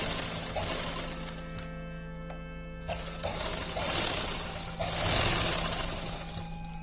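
A sewing machine runs in a quiet, steady, whirring clatter while double-stitching a seam on a salwar, with the rhythm varying slightly as the fabric is fed and no talk over it.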